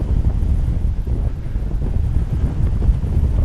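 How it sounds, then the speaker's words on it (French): Strong wind at a paragliding takeoff on the coast at Pénestin's La Mine d'Or, heard as steady, loud, low buffeting roar against the microphone for the whole stretch. "Le vent un peu forci, alors les gens ont déserté un peu le déco."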